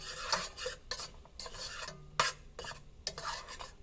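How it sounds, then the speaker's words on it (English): A spoon scrapes and swishes through food in a pot in a series of rhythmic stirring strokes, close and fairly quiet, with a faint sizzle underneath. "Give it a stir."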